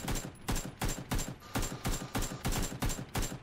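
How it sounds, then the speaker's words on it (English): Close gunfire in a battle royale video game comes as repeated sharp bursts of automatic shots, roughly ten evenly spaced volleys in quick rhythm, loud and without talk. "Gunfire close."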